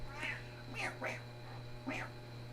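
A pet cat, about eleven years old, meows four times at close range indoors, in short rising-and-falling cries over a steady low electrical hum.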